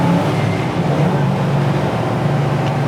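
A 1966 Pontiac GTO on a test drive, its engine droning loud and steady from inside the cabin with a low rumble throughout and no clear break for a gear change.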